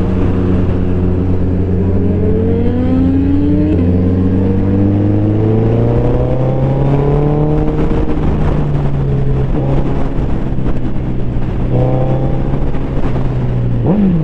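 Sport motorcycles such as a Suzuki Hayabusa or BMW S1000RR on a group Sunday ride, engine droning steadily and loudly with rising and falling revs that shift through gears, under constant wind rush.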